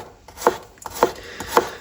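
A knife chops finely through a large garlic clove on a board, three crisp evenly spaced strikes with soft rubbing between.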